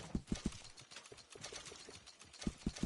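A horse's hooves clip-clop at a steady walking rhythm in Red Dead Redemption 2, with quiet, evenly spaced thuds clearest at the start and the end over soft background ambience.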